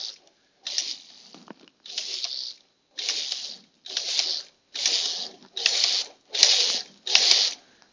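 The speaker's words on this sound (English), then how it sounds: "I was knitting slowly because you're putting a lot of stress on the stitch cam" Dubied knitting machine carriage drawn slowly across thick yarn, eight separate clattering ratcheting passes with short pauses between, close and crisp.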